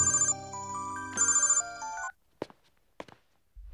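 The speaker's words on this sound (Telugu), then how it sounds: "ఆ సూర్యగడికి ఫోన్ చేయి." A phone rings in two electronic ringtone bursts, loud and close, then stops, followed by a few soft thumps or steps in a quiet room.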